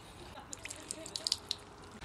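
Tap water runs over a fish fillet, probably flathead or scorpionfish, being rinsed in a sink: a faint background trickle with scattered light drips and splashes.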